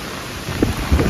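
Stormy weather during typhoon Yagi on open water, with steady rain and wind noise and low rumbles of thunder; hail is not distinct.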